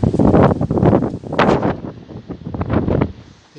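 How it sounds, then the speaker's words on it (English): Strong gusts buffet the microphone in loud, roaring bursts that swell and ease over a few seconds, with no one speaking. "needless to say, it's really, really windy"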